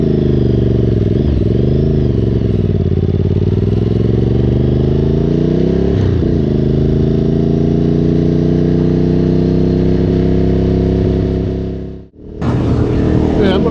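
A Ducati Multistrada motorcycle engine and exhaust drone loud and steady while riding, with small rises in pitch. The sound cuts out sharply for a moment near the end, then comes back.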